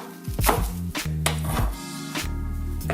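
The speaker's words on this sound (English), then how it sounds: "I'm going to cut on an angle on the green part of the onion" A kitchen knife chops green onion on the diagonal against a cutting board, several crisp, close knocks in an uneven rhythm with no talking over them.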